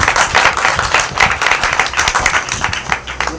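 Loud, close clapping from a congregation at a Saturday church service in Narsinghpur welcoming a pastor, energetic uneven hand claps building into a lively ovation.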